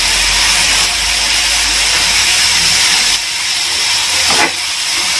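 Sweet corn frying in a pan for a sandwich filling gives a steady, loud broadband sizzle and hiss that runs continuously with slight swells, with no one speaking.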